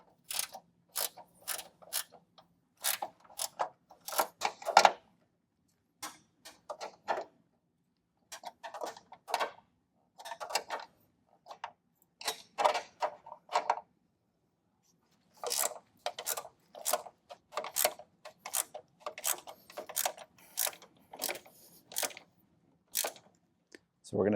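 A ratcheting wrench clicks in quick bursts of sharp, close pawl ticks while tightening hardware on steel tube fender flares, in several runs separated by short pauses.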